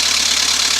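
A Beta 38 hp marine diesel engine runs with a loud, steady, dense drone close by, alone and unchanging throughout the brief moment.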